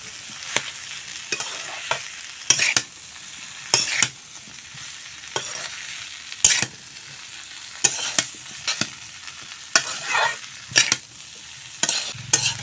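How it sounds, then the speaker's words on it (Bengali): Fried potato and banana stem being stirred with spices in a pan, giving a steady sizzle and frequent loud scraping strokes of a spoon, close up and without any voices. "আলু আর কলার তুর এখন মশলার সঙ্গে ভালো করে মিশিয়ে নেব।"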